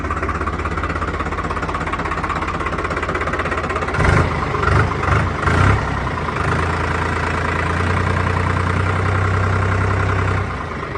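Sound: 3630 TX Super Plus tractor engine idling

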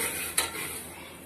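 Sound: spoon stirring frying vermicelli in pan

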